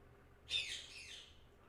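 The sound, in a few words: birds squawking outside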